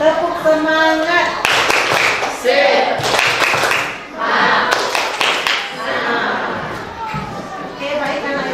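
Schoolchildren in a classroom perform the tepuk semangat spirit clap, bursts of loud rhythmic clapping in patterned groups mixed with children's chanting voices, pausing briefly between rounds.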